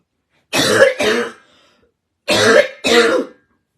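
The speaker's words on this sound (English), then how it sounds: "I need to clear my throat, and then that usually sends me into a cough" Two pairs of loud, close throat clears and coughs, each pair a quick double burst, separated by about a second of silence.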